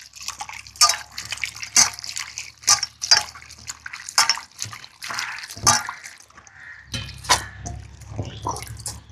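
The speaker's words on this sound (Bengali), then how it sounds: "এই রকমভাবে 2-3 বার করে জল পাল্টে পাল্টে ধুয়ে নেব।" Raw mangoes are washed by hand in clean water, with irregular close splashes, sloshes and drips coming in short bursts and pauses.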